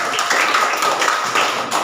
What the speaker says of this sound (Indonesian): Oh, tepuk tangan dulu.